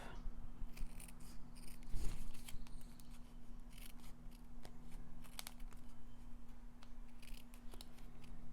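Scissors snip thin strips off the edges of a paper card, a series of close, crisp cuts with a few sharper clicks, quiet and alone with no talking.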